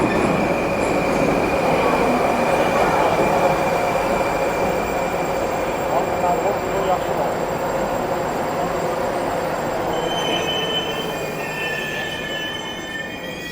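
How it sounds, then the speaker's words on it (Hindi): A Tashkent metro train pulls into an underground station, wheels squealing with sustained high-pitched screeches over a loud, steady rumble that gradually eases as it slows to a stop. "तो गाइस अपनी ट्रेन अभी आ चुकी है"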